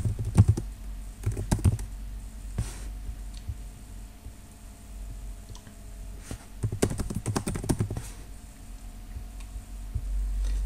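Keys clatter on a computer keyboard in short bursts of typing separated by quiet pauses, close and clear over a faint steady hum.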